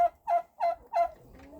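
A farmyard turkey gobbles in four quick, loud rattling bursts close by, followed by a fainter trailing call.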